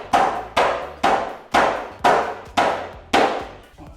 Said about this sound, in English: get a rubber hammer, just give it a little tap, just a little tap in there